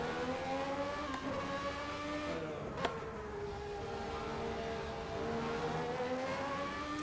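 A Formula 1 race car engine from an Assetto Corsa mod at Monza drones steadily with layered harmonic whine, pitch dipping and rising through gear changes and one brief sharp click, loud and continuous with no talk.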